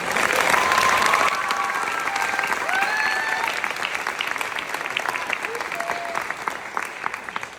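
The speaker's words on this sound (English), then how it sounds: "Can we have one more round of applause for the Jazz Band?" Sustained audience applause for a school jazz band at a concert, loud and dense at first, then slowly thinning, with a few faint voices and whistles mixed in.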